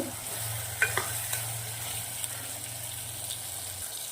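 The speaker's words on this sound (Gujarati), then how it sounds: "ચણાને 2 થી 3 મિનિટ મસાલા જોડે સંતળાવા દેવાના છે." Green chickpeas sauté in a pan with ginger, garlic, green and red chilies for a bottle gourd curry, giving a soft continuous sizzle broken by a few close scraping stirs, with no speech.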